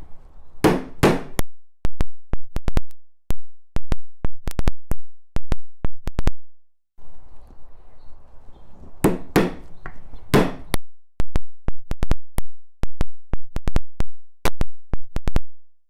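Steady series of sharp hammer blows from a Dewalt 20 oz hammer driving nails, struck in quick bursts with brief pauses, loud and close, with a softer shuffling stretch in the middle.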